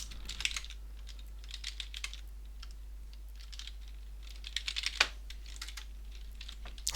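Someone types a Bash chmod command on a computer keyboard, a fairly faint run of quick clicky keystrokes in short bursts with one louder tap near the end, over a steady low electrical hum.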